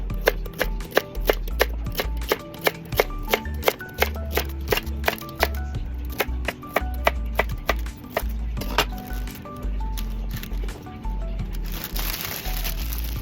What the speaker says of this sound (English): And the celery also gets washed and sliced like carrots.